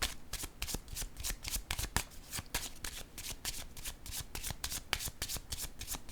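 Playing cards are shuffled and riffled close to the microphone in a rapid, crisp flutter of repeated snapping strokes that continues without a break.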